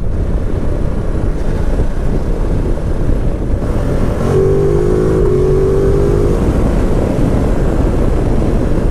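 A 2019 Ducati Multistrada 950 S engine drones steadily during a test ride, with loud wind rush throughout and a brief rising rev tone in the middle, with no talk.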